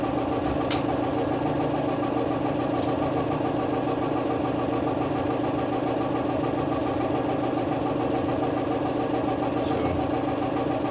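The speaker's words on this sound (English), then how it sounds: "Die grinder." An air die grinder adapted to a lathe runs steadily with a constant, loud mechanical drone and hum, alone and unbroken throughout.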